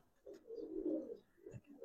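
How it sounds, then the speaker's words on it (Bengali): A long-tailed pigeon coos softly nearby, two low, rounded calls in quick succession against a quiet background. "বড় লেঞ্জার কবুতর, খুব সুন্দর"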